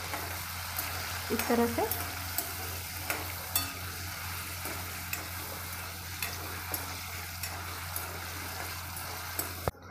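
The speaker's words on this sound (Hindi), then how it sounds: "इसे 1 मिनट तक तल लेना है।" Paneer fries on low heat in a pan with a steady soft sizzle, broken by occasional clinks and stirring scrapes, and a voice speaks briefly over it.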